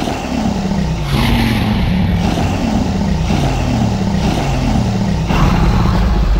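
A Minecraft note block with an Ender Dragon head on it: a deep, growling roar rises and falls in repeated waves, loud and close, like a large beast calling.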